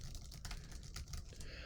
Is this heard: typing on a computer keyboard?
yes